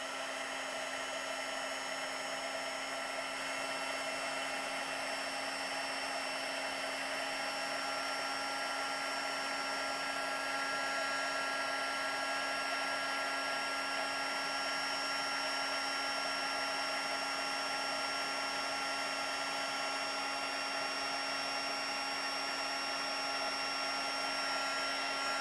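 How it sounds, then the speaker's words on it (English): A craft heat tool blows steadily to set a stamped greeting on a card, a continuous whining fan hum with a high-pitched tone, running unbroken and close throughout. "Let's use our heat tool to set that."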